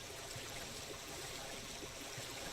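A character swims through water in Final Fantasy 14, giving a continuous loud splashing and rushing wash with no breaks, steady and close.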